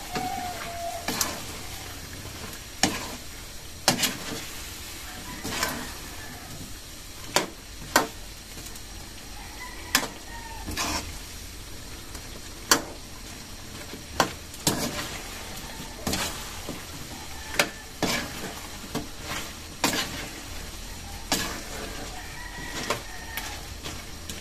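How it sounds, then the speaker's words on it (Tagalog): Chicken adobo stirred in a sizzling pan: a steady fry hiss broken by frequent sharp clacks and scrapes of the spoon against the pan, close and fairly loud, with no talking. "Atin po ulit hahaluin."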